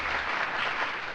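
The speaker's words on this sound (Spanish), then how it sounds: "¡Un aplauso!" An audience applauds in a dense, steady burst of clapping that fills the whole moment.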